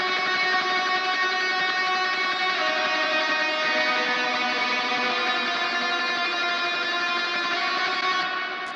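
Wet lead electric guitar played through the same amplifier and cabinet as the other leads, sent into a plate reverb; a sustained, dense, washy tone rings steadily and loud for the whole stretch, with no talking.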